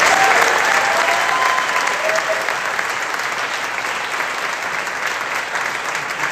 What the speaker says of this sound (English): So please, let's give a big round of applause.